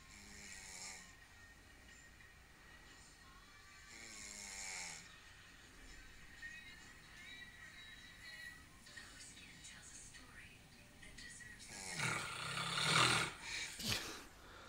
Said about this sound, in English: there was a really loud snore in the end